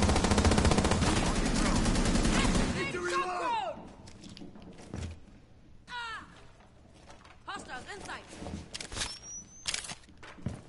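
Automatic gunfire in the video game Rainbow Six Siege: a dense, loud burst of rapid shots fills the opening seconds, followed by scattered shots, footsteps and game effects, with voices talking over it.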